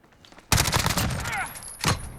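A loud, rapid burst from an MP5/10 submachine gun in Call of Duty Modern Warfare, then a shorter second burst a moment later.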